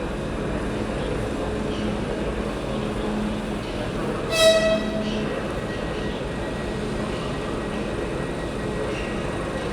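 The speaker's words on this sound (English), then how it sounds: "Oh, there's a train departing." A train pulls out of a station in Poland with a low, steady rumble, and a short whistle or horn tone cuts through about midway while distant background noise continues.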